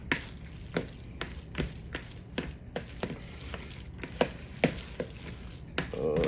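Potato filling is mixed with onions and bacon in a bowl for air fryer twice-baked potatoes, a steady run of soft, regular scraping and squishing strokes up close, with no talk.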